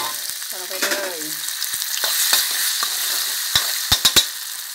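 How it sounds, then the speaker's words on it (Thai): Thai red curry paste with kaffir lime leaves and garlic stir-frying in hot oil in a wok, a bright sizzle with crackles and a few sharp utensil knocks near the end, no voices. "ตั้งกระทะเลยนะคะน้ำมันลงไปค่ะ1ช้อนแกงนะคะเพื่อผัดพริกแกงให้หอมก่อนนะคะ"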